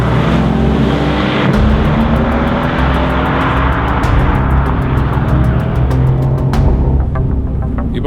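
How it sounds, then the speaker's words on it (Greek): A Mercedes-AMG C63 S with a 4-litre twin-turbo V8 drives past loudly, its engine note droning and rising steadily with a sharp shift or burble midway, and no voices. "κάτω από το καπό της 63 υπάρχει ένας 4λιτρος V8 με 2 turbo"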